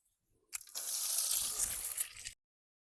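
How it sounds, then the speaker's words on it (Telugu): Cooking oil poured into a pan outdoors at a farm field for making Maggi noodles, a brief soft liquid splash and sizzle lasting under two seconds, close and alone. "అయితే నేను ఆయిల్ పోస్తున్నాను."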